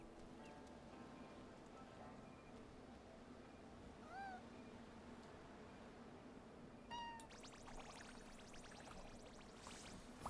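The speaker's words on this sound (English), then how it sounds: "The kitty." A cat meows twice in a video game, one soft meow near the middle and a sharper one later, heard faintly over a steady background patter like rain.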